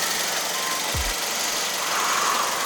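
A 2010 Mazda 3 BL Sport 2.0L naturally aspirated DOHC engine idles with a steady low hum and a broad, even noise bed. One brief low thump is heard partway through.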